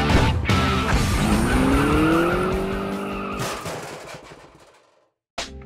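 A car in the Hill Climb Racing mobile game trailer revs and skids loudly, engine pitch climbing and tires squealing for several seconds before fading, followed by a brief silence and a sudden sharp burst at the end.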